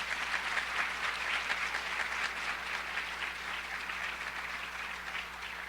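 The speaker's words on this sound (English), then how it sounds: "I'd like to give them a round of applause for the leadership they provide." An audience at a high school National Honor Society induction ceremony gives a steady round of applause, many hands clapping together in a dense wash that holds for several seconds, then slowly thins.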